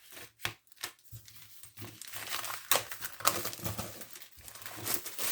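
Plastic packaging around a stretched canvas for acrylic pouring crinkles, rustles and tears in close, irregular bursts, with brief quiet pauses between handfuls.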